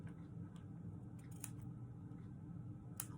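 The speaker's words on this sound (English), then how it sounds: "we'll cut the end at an angle" A few crisp snips of scissors trimming the end of a ribbon at an angle for a handmade Christmas card, spaced apart and close, over a faint background hum.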